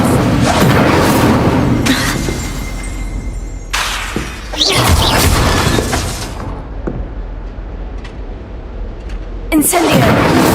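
Incendio fire spell bursts in the Hogwarts Legacy video game, several loud booming, crackling fiery blasts with whooshes, separated by quieter rumbling gaps, under a steady game background.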